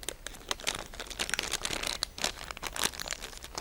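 Glassine envelope crinkling and rustling up close as a short lock of cut hair is slipped inside, with a steady run of dry crackly bursts and no talking.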